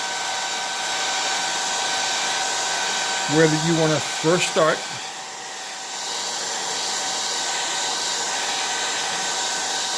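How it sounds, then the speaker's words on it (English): A blow dryer blows hot air onto talon grips in a steady, continuous whoosh that runs the whole time, with a brief stretch of talk partway through. "you want to take your blow dryer"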